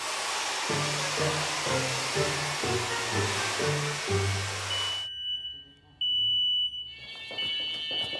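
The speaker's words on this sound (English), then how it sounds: "Yep, insecticidal spray can set off your smoke alarms." Loud smoke alarm, set off by insecticidal spray, blaring in rapid repeated bursts for several seconds, then cutting out, followed by a brief tone and a few scattered high beeps.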